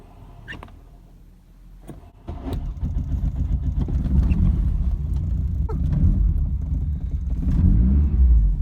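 A Volkswagen Corrado engine, started after years in storage, cranks with a few clicks, then catches and settles into a loud, uneven rumbling idle that wavers and surges.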